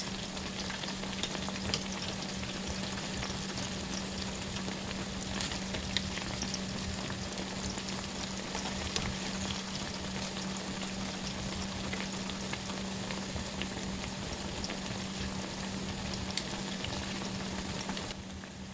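Plantains fry in a pan on an electric stove at medium-high heat, giving a steady, even sizzle and crackle that continues unbroken throughout with no voices.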